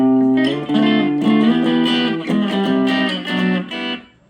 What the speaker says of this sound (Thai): โอ้อันนี้จำลองมาเชลได้ดีมากเหมือนมาเชลเป๊ะเลยนะครับ